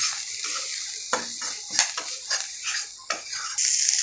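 Spoon stirring Kashmiri chili powder into cluster beans in a pan, scraping and clinking against the metal in short irregular strokes over a light frying hiss.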